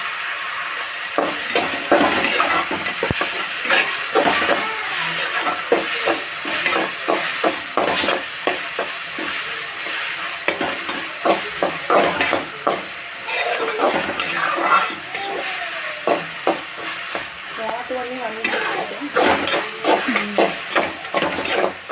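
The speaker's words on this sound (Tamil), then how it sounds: "நல்லா காளான் வதக்கிக்கலாம்" Mushrooms sauté in a hot pan, a steady close sizzle and hiss broken by frequent scraping, clinking stirs from a utensil against the pan throughout, with no talking.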